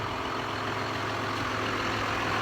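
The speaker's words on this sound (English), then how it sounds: "6150M is handling the cultivator perfectly." From inside the cab, a 6150M tractor pulls a corn cultivator through a corn-on-corn field, giving a steady, loud, droning engine roar with no break and no talk.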